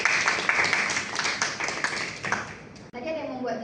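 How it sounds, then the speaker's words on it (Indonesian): A group in a career-guidance practicum session applauds with a quick run of dense hand claps that stops abruptly, and a voice speaks over the clapping and continues after it ends. "Tepuk tangan kita semua."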